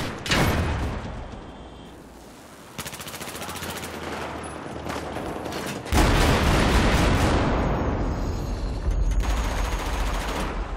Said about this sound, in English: What happens if I take a tank indoors and fire it?